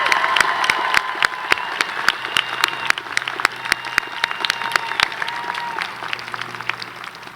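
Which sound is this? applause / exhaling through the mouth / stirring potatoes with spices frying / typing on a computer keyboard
applause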